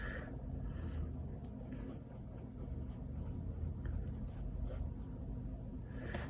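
Pen scratching across a personal collector card in short strokes, with quiet scribbling bursts through the clip and a person talking over it.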